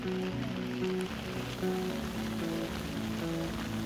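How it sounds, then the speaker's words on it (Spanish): Rain falling over an old city quarter, a steady soft hiss of drops on surfaces throughout, with a low melodic tone running beneath it. "comienza a llover"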